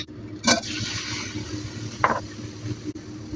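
Strained broth is poured back into a pan for a beef and enoki mushroom dish, a rushing liquid pour that swells and fades across a few seconds, with a couple of sharp clinks.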